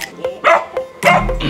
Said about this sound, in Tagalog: may aso lola